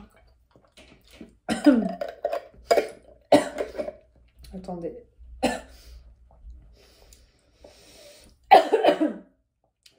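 Several harsh coughs come in bursts, close to the microphone, with a few breaths and brief quiet speech between them.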